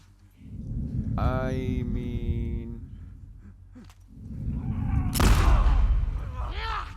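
Gunfire in The Last of Us Part II: heavy booming shots and rumbling blasts in two bursts, with a brief tonal game sound between them.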